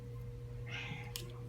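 A cat meows once, faint and somewhat distant, in a quiet indoor room with a steady low electrical hum underneath.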